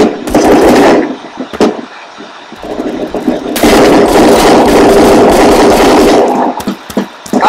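Video game gunfire crackles in loud, dense automatic bursts, with a long sustained volley in the middle and shorter bursts around it, close and heavy.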